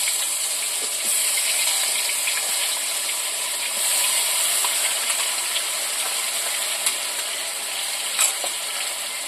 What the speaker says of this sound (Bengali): পেঁয়াজ বাটা দিয়ে দিলাম